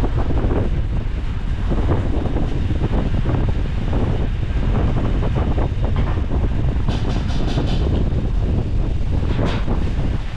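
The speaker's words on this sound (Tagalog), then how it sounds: "Yan ang hangin mga Beli. Wala pang ulan, puro hangin muna." Strong, steady typhoon wind roaring without letup on a farm before the rain, buffeting the microphone with a constant heavy rumble; no voices.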